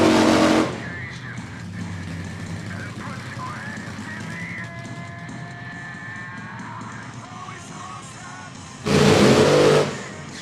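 Top alcohol dragsters at an NHRA drag race at Thunder Valley Motorsports Park give two short, loud roaring bursts, one at the start and one near the end, with quieter crowd and announcer talk in between.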